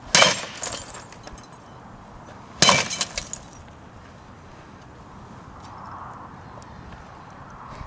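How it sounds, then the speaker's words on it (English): A laminated annealed glass pane is struck hard twice and breaks, each blow a sharp, loud crash with brief crackling fragments, separated by a couple of seconds of quiet room tone. "As you can see, the glass breaks,"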